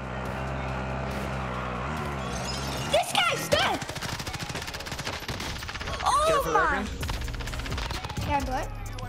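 Gunfire in a Call of Duty match, with bursts of rapid shots and single cracks scattered over several seconds amid game effects and engine-like noise, while players talk throughout.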